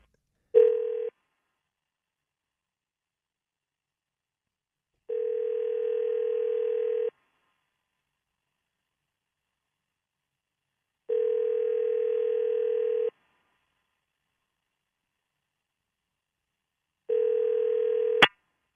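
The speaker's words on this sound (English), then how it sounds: "we're going to dial up the phone here" A steady landline dial tone sounds in four separate bursts with silent gaps between them, the first short and the rest about two seconds each, ending in a sharp click. No one speaks.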